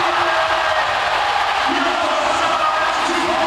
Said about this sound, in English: the Kings crowd is quite loud here